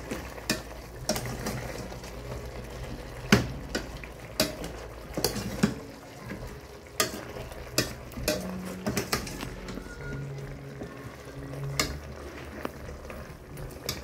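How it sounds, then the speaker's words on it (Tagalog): Peppercorns and bay leaves being stirred into a cooking pot with softening meat, repeated clinks and scrapes of a utensil against the pot over a low simmer and faint frying, no talking. "Halu-haluin lang natin."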